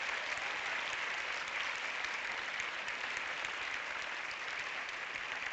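Applause from a film-screening audience at a European film award event, a steady dense wash of many hands clapping with no break, loud and even throughout.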